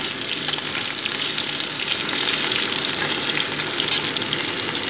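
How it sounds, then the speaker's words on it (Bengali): Chopped potatoes fry in a wok with a steady, dense sizzle and crackle throughout, close and fairly loud with no talking. "আলুগুলো দেখো ভাজা কিন্তু আমার হয়ে এসছে"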